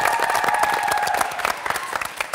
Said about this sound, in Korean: 박수 한번 보여주세요